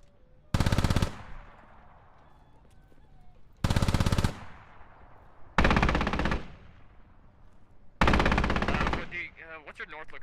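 Four loud, sharp bursts of automatic gunfire in Squad, shots fired through a window, each burst followed by a ringing decay and separated by quiet gaps, with a voice briefly at the end.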